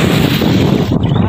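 Steady, loud wind buffeting the microphone while riding a Suzuki Burgman scooter, a constant roaring rush with no break.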